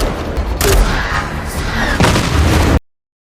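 Gunfire in a robot action film: bursts of rapid shots and heavy booming blasts crackle over a dense battle din, loud and close, before cutting off abruptly.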